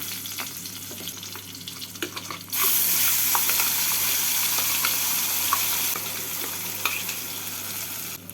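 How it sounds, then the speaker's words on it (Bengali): Mustard paste frying in hot oil tempered with black cumin and green chillies for pabda fish curry, a quiet crackle that jumps to a louder, steady sizzle partway through, with light stirring scrapes. "ফোড়নটা হয়ে গেছে এবার এর মধ্যে আমি বেটে নেওয়া সর্ষেটা দিয়ে দিচ্ছি"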